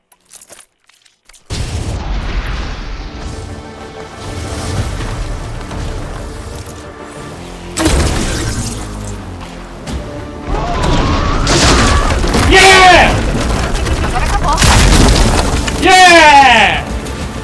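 A train-mounted cannon fires repeated heavy booming blasts in the video game Horizon Forbidden West, with loud explosive bursts and crashes building through a battle while a player talks over them.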